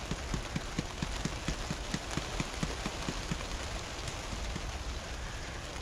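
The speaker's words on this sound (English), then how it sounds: "It's raining outside" Steady rain hisses over the whole stretch, with a faint regular knocking or dripping rhythm underneath; no voices.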